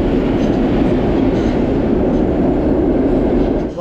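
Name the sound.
train arriving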